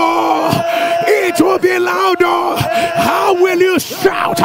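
A church congregation yells, whoops and screams together in loud, sustained bursts, with a voice rising above the crowd and brief dips between surges of shouting.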